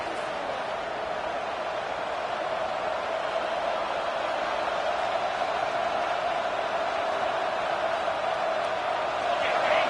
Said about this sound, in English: Here comes this home crowd as the defense tries to get off the field on third down